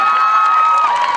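Audience at a live speech event in Rajasthan clapping and cheering, a continuous dense wash of crowd noise at steady loudness for the whole moment, with scattered shouts mixed in.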